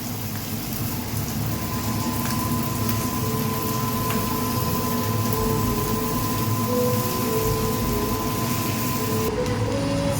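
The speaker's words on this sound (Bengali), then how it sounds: "চালে জল ছিল সেই জন্য ছিটকাচ্ছে" Soaked, still-wet rice frying with cumin and spices in a pan for jeera rice gives a steady, dense spattering hiss that runs evenly throughout, with a faint steady tone underneath.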